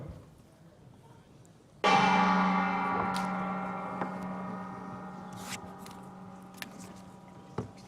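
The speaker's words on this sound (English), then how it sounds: "When the gong strikes, that can only mean one thing here at Wijk." A gong is struck once to open the games at the Tata Steel chess tournament in Wijk aan Zee, a sudden bright strike followed by a long shimmering decay in a quiet hall, with faint background clicks.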